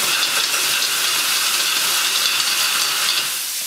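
Clams sizzling in a hot pan, a loud continuous hiss and crackle with steady intensity that eases slightly toward the end, heard alone with no talking.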